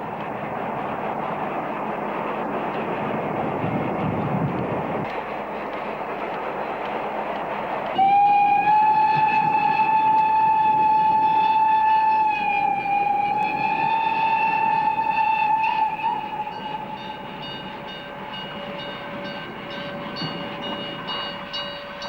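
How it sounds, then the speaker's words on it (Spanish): Steam locomotive 74-1230, built in 1916 by Borsig in Berlin, rolls along the Orla Valley line with a steady rumbling chuff, then a long loud whistle blast sounds for several seconds before the train noise continues. "Los ferrocarriles del Reich conservan la 74-1230 en condiciones de funcionamiento como locomotora tradicional."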